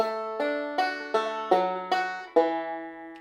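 Banjo playing a bluegrass melody line, crisp plucked notes picked one by one in a steady rhythm, each ringing briefly, clear and close with no talk.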